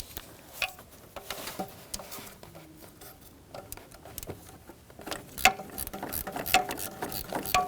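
A ratchet fitted with a 10mm socket loosens a tight crank position sensor mounting screw on a 2007-2017 Jeep Patriot engine, giving quick, close clicking bursts in irregular runs that grow louder toward the end.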